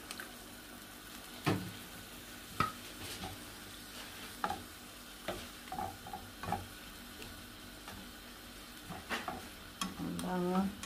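A spoon stirs milk and cream into a frying seafood burger mixture in a pan, with intermittent scraping clinks over a low sizzle, closer bubbling and stirring toward the end.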